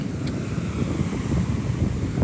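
Strong wind buffeting the microphone at Bang Saen beach, a steady low rumbling roar throughout with faint surf underneath.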